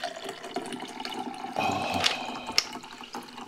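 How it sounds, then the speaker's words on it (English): Mountain Dew Voodew soda poured over ice cubes in a glass, a close fizzing, splashing stream that swells midway with brief crackles, no talk. "It's just making it colder because I'm pouring it over the ice cold rocks again."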